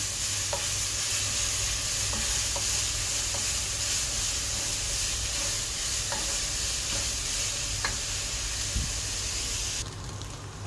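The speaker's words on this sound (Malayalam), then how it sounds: "ഇതിൻ്റെ ഒരു പച്ചമണം പോകുന്നത് വരെ നമുക്ക് വഴറ്റി കൊടുക്കാം." Grated carrot, three carrots' worth, sautés in a pan for a sweet carrot sago payasam, making a loud, continuous sizzle with repeated spatula scrapes and clicks, heard close and with no talking.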